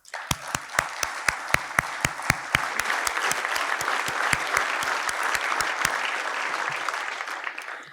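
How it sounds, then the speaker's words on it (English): Audience applause at a university alumni fellow awards ceremony: a crowd claps steadily, with sharp individual claps standing out early, then a dense wash of applause that fades toward the end. "Please give them all a round of applause."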